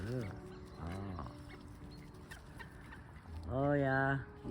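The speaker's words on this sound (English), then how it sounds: "So wonderful, those ducks." Ducks call at a feeding spot in Norway in strong wind, giving a few loud quacking bursts close by over steady wind noise.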